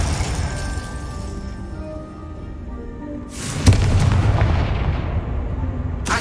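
A fire spell in Hogwarts Legacy lands with a sudden booming blast over a steady low game rumble, followed by a rolling roar of flame and a second sharp burst at the end.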